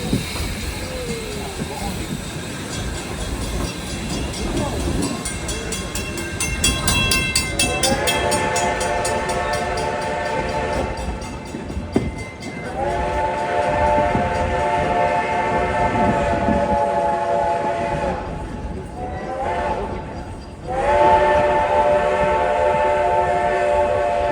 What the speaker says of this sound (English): That's a Reading passenger whistle you're hearing.